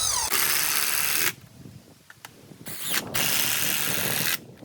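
A power driver whines in two long bursts, separated by quieter clicks and handling noise, as screws are driven into wood close by.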